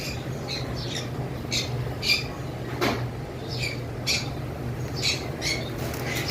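Cockatiels at a bird seller's collection give repeated sharp squawks and chirps, scattered in short bursts over a low steady hum, fairly near and moderately loud.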